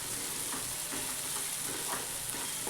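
Garlic and coconut masala sautéing in hot oil give off a steady, even sizzle and crackle that stays moderately loud and close throughout.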